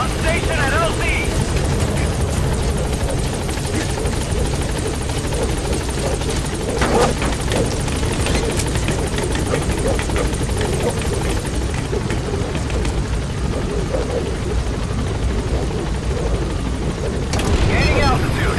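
A support helicopter in Metal Gear Solid V hovers at a landing zone, its steady, loud rotor chop and turbine roar filling the whole stretch without a break, with radio voices talking over it.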